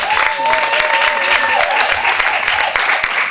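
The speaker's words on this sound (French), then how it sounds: "acclamons très fort pour lui" Applause for Pastor Chris at a church prayer gathering, a dense sustained round of clapping from an indoor crowd with a voice calling out over it.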